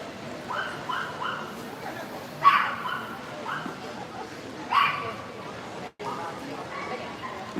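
Dogs at a dog grooming salon yip and bark in short bursts amid an echoing room, with people talking and general bustle around them.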